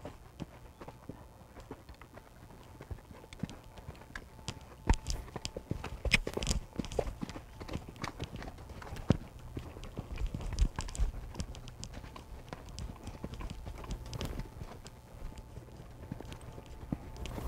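Horse hooves clip-clop along steadily at moderate distance, with irregular knocks and a low background rumble throughout.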